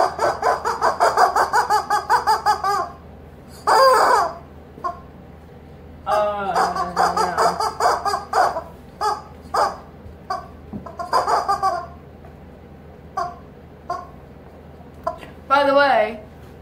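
A red-footed rubber chicken toy is squeezed repeatedly, giving loud, short squawking squeals in bursts of varying length with gaps between, close up.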